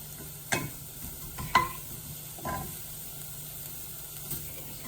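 Chopped onion and garlic frying in a pan, a steady soft sizzle broken by a few spatula scrapes and taps, close and fairly quiet, with no talking.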